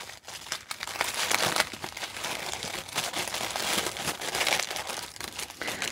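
A crinkly package is torn open up close, a continuous dense crackle of plastic crumpling and rustling for several seconds.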